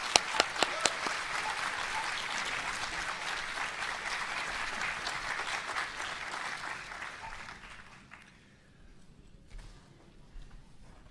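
An audience applauds warmly to welcome Dr. Marvin J. Southard, Director of the Los Angeles County Department of Mental Health, beginning with a few sharp claps, then sustained clapping that fades out over several seconds.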